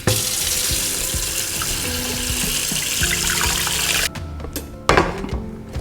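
Tap water gushes steadily into a pot holding chicken offcuts for stock, a loud continuous splashing stream that cuts off abruptly near the end, followed by a few drips and a clunk.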